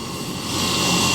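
Chhagan Bhujbal's helicopter approaching Khanwadi village in Purandar taluka for a landing: a steady, loud engine and rotor roar that swells slightly as it nears, with no voices.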